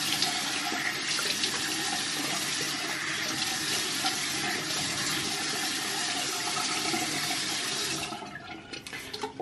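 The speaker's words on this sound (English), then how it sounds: "I rinse my face with cool water to close my pores back." Cool water running into a bathroom sink while rinsing the face during a skincare routine, a continuous loud splashing rush that tapers off near the end.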